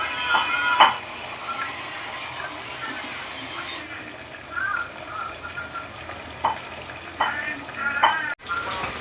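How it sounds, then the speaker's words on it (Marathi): Chicken pieces sauté in hot oil in a pressure cooker for a chicken curry, a soft continuous sizzle punctuated by occasional scrapes and stirs of a utensil against the pot. "हे छान मी आता परतवून घेतले तेलामध्ये."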